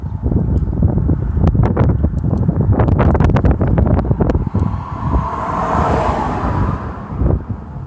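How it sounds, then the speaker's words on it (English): A truck engine with an exhaust leak near the catalytic converter runs loud and close, a heavy rumble with sharp ticking puffs that later gives way to steadier roaring and wind buffeting on the microphone. "Got an exhaust leak. The truck's loud, really loud."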